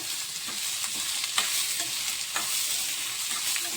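Four medium onions, finely chopped, are stirred in a hot pan, giving a steady bright sizzle with light scraping stir strokes at irregular intervals, heard alone.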